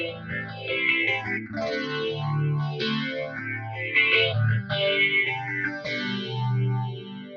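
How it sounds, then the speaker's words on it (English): Guitar played through a Walrus Audio Vanguard pedal with its 4-stage and 10-stage phasers combined, giving a series of strummed chords a deep, swirling, sweeping shimmer; no talking. "And what you're hearing is still the bottom phaser, which is a 4-stage, in combination with the top 10-stage phaser."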